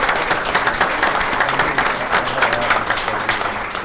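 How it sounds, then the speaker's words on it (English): Loud, sustained applause from an audience for students at a State of the Schools event, dense overlapping clapping that holds steady throughout with slight crowd murmur beneath. "Let's give our students one more round of applause."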